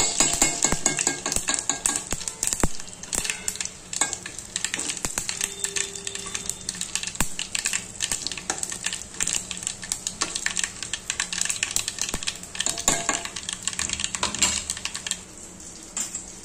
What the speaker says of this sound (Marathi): ही रेड मिरची ना याच्यामध्ये चांगली भाजून द्यायची